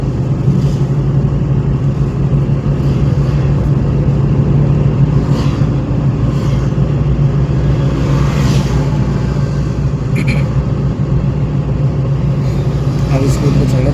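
A car engine hums steadily and close during a driving lesson with gear changes, its drone continuous under an instructor's ongoing talk.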